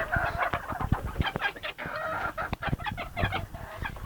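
A flock of this year's young chickens and roosters fills the air with dense, overlapping clucks and squawks, with crowing mixed in, loud and close without pause.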